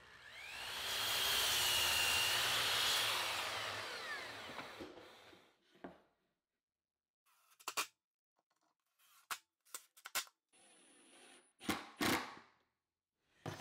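A saw rips and crosscuts 2x4 boards in one loud, close cut lasting several seconds, followed by quieter knocks and clatter of the wood being handled, with no talking.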